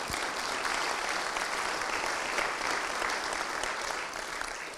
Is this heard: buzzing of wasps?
no